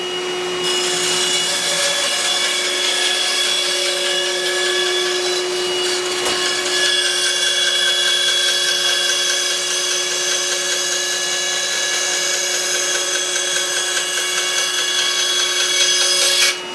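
A CNC machine runs steadily in a workshop, a continuous loud whirring drone with a high tonal whine, unbroken for the whole stretch with no talking.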